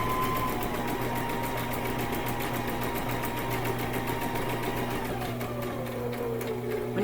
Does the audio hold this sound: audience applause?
no